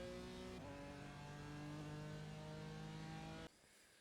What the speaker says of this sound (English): going pretty aggressively on power, then trying to quickly open the steering, and then I go through the gears and we cross the start finish line